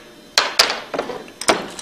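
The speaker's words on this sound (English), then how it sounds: "put against the shaft, and then give it a good rap with a hammer" A hammer raps a bolt held against the shaft of a Hypro roller pump, giving a few sharp metallic knocks: two close together, then several lighter taps and one more firm strike.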